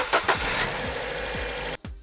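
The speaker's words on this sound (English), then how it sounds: "then you can start the car" Car engine started after new spark plugs are fitted: the starter cranks in a few rhythmic turns, then the engine catches and runs steadily at idle, close and loud.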